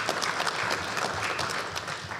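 A short burst of steady applause from an audience at a Rotary club induction ceremony, dense clapping at moderate distance without pause.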